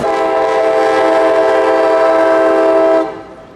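A loud, sustained horn from a freight train led by a GP38-3 locomotive in Tampa blares close by for about three seconds and then cuts off, leaving a faint rumble behind.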